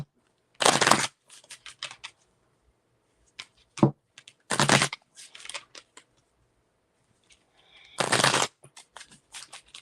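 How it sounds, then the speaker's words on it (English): A deck of tarot cards is shuffled in three quick riffle bursts with soft taps and card flicks between them, close up and with no talking. "Let me just shuffle for my other deck."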